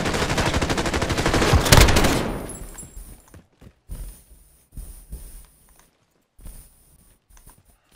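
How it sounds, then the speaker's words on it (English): Light machine gun in a video game pours out a dense burst of rapid automatic fire for about two and a half seconds. Scattered mechanical clicks and short bumps follow in near silence. "This is the LMG!"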